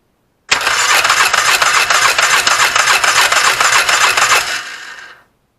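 A Yamaha Grizzly 600 ATV with a starter bendix problem cranks and catches, its engine running loud and close with a fast, steady pulsing for about four seconds before cutting off abruptly.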